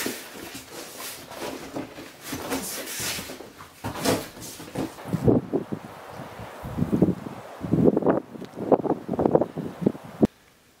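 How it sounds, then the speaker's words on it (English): Gusty wind buffets the microphone outdoors while a portable power station and solar panel are set up, with rushing, uneven bursts that rise and fall and a few louder thumps and rustles near the end. "it's windy out, so it's hard to film when it's windy like this"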